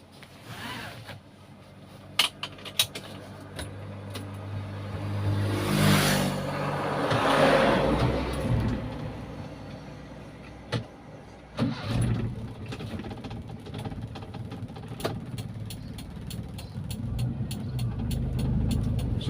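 A carbureted car engine runs steadily while driving on a Sumatran road, a low continuous hum around 2750 rpm that swells in the middle, with clicks and rattles from inside the cabin.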